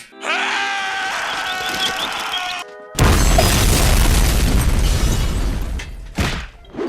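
A cartoon bomb from a coin-operated self-destruct device in SpongeBob goes off: a wailing, siren-like tone sounds for a few seconds, then a loud, sustained explosion roars before trailing into a brief final crash.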